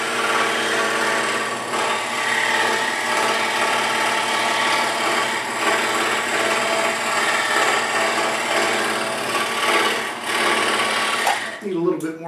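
An inexpensive scroll saw cuts through wood, with its air blower running. A steady, dense mechanical buzz with a fast reciprocating chatter goes on for the whole stretch, close and loud, then tails off with a few rattles at the end.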